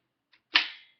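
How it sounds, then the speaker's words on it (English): A homemade Nerf blaster's plunger rod catches with one sharp, loud click, preceded by a faint tick and trailing off briefly, alone in quiet. "the loud click that the plunger rod makes when it catches"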